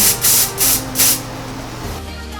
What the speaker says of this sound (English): this is when I take my hairspray and I'm just gonna spray